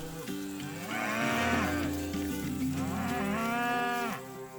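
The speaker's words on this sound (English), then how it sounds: "we raise purebred Simmental and Charolais cattle" Purebred Simmental and Charolais cattle on a Manitoba farm moo twice, each call loud, close and drawn out, with a short gap between them.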